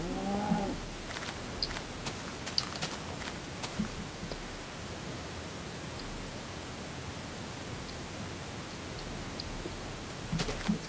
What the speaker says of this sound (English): The cow.